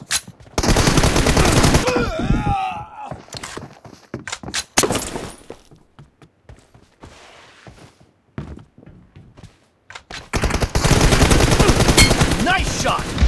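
M416 rifle fire in PUBG Mobile comes as loud, rapid automatic bursts at the start and end, with scattered single shots and quieter thuds in between.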